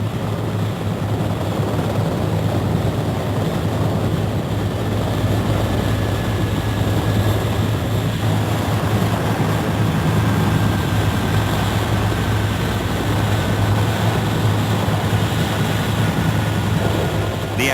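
American 7th Fleet naval helicopters shuttle evacuees from the US embassy in Saigon in 1975. Their engines and rotors give a loud, continuous droning rumble that stays steady throughout.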